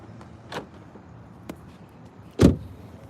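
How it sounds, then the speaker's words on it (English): A door being locked, with a few separate clicks and thumps, a soft one early, a brief sharp click midway and a louder clunk near the end, against quiet background. "Let me lock this door."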